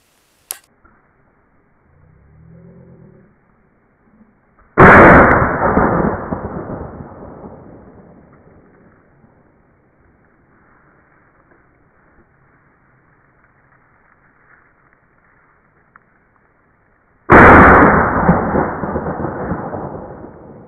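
Two loud shotgun blasts while hunting crows in Cyprus, each a sharp crack followed by a long rolling echo, about twelve seconds apart, with faint distant bird calls between them.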